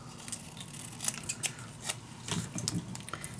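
Scissors snipping through patterned scrapbook paper for a mini album, several quick close crisp cuts with soft rustling between them, no talking.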